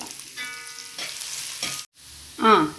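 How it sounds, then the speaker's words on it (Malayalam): Two finely chopped onions sautéing in hot oil in a pan, with a steady sizzle and scraping stir through most of the moment, a short silent gap, then a brief louder burst. "അപ്പോൾ തന്നെ നമ്മൾ 2 സവാള ചെറുതായിട്ട് അരിഞ്ഞു, അതിനെയും കൂടെ ഒന്ന് ഇതിനകത്തോട്ടൊന്ന് ഇട്ടൊന്ന്"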